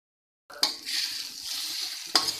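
Jackfruit koftas frying in oil over low heat, a soft steady sizzle that starts suddenly, with two brief sharp spoon clicks against the pan.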